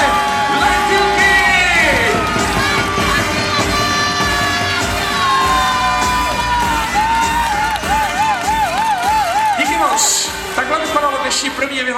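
An audience cheers and whoops at a children's dance competition award ceremony, a loud, continuous crowd roar with shouts and a voice carrying over it throughout.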